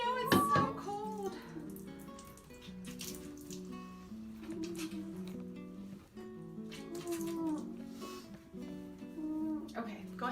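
Vinegar water is poured over a child's tangled hair, making a soft, faint splashing trickle under background music and people talking.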